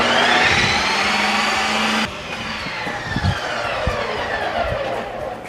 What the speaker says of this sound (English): turn the machine on, and hit Lite Ice Cream